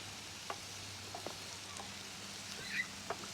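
Fresh forest mushrooms stirred in a small frying pan sizzle softly and steadily, with a few light scrapes and taps of the utensil breaking through the quiet hiss.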